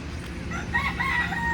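Chickens and a rooster at a tourist spot in Pondicherry, a crow and clucking heard at moderate distance over steady outdoor background noise.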